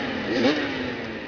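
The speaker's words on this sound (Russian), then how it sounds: "Заревели моторы" Motorcycle engines rev together at a motoball match in a stadium, a steady loud droning roar that swells briefly midway, with no talk over it.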